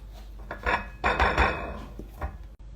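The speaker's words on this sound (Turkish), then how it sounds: "Sonra tabağımı şu şekilde geri çeviriyorum." A plate is turned over onto a semolina halva mould, giving several close clattering knocks and scrapes of crockery, with two main clusters of bumps and a softer final tap.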